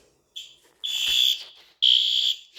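An Edwards 270-SPO fire alarm pull station, pulled down, triggers a local alarm that blares in loud, harsh tonal bursts, three pulses with short gaps between them, alone with no talk.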